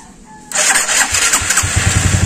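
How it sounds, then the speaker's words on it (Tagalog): A motorcycle engine cold-starts after a moment of near silence, catching abruptly and then settling into a loud, uneven, sputtering idle close by. "start na natin uli ang makina. Paparinig ko lang sa inyo ang tunog"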